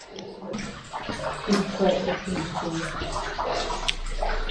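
Water runs steadily from a drinking tap at a mine RV park into a bottle or cup, a continuous splashing flow heard under a person talking throughout.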